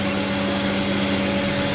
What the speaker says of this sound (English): Other than that, the car is idling right now.